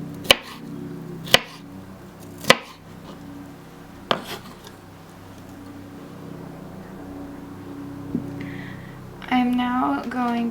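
Vegetables are cut for a roast veggie salad: four crisp knife chops strike a board at uneven intervals, a quieter stretch follows, and a voice briefly speaks near the end.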